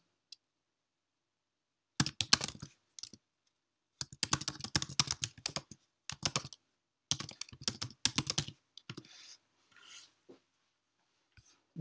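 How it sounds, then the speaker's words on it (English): Computer keyboard keys clatter as a domain name is typed, quick bursts of clicks separated by short pauses, then a few slower, softer taps near the end, close to the microphone in an otherwise quiet room. "I'm just going to type in the domain name."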